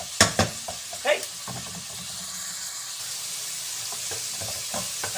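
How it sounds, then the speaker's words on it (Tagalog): Tomato and onion cook in a pan for pakbet, a steady sizzle and hiss under a few sharp stirring clinks near the start, with no talk. "Lutuin lang natin yung kamatis at saka sibuyas."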